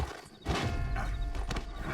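A horse in the Red Dead Redemption game whinnies and snorts with clopping hooves close by, a brief loud burst of neighing and stamping heard alone without speech.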